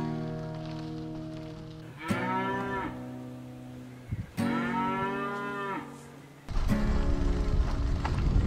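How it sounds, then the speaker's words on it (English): Cows moo loudly and close by in long drawn-out calls, two separate lows followed by a noisier stretch that sounds like rain. "In a land overtaken by cows"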